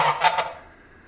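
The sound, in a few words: geese honking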